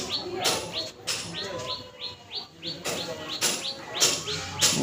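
A small flock of five pigeons flies high overhead outdoors, giving a steady run of repeated short, bright chirps over a constant airy background, with occasional broad whooshing bursts that may be wingbeats.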